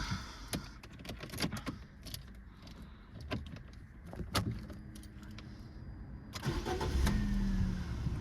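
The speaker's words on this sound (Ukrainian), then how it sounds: "Давайте з вами заведемось, послухайте, як працює двигун, як вона заводиться" Keys jangle and clicks sound inside a 2013 Fiat Linea 1.4, then the engine cranks and starts at about six seconds, settling into a steady, quiet idle.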